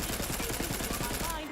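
Rapid, evenly spaced shots from the Infinity Pistol in Borderlands 3 rattle off in a steady automatic stream for over a second, loud and close, then cut off.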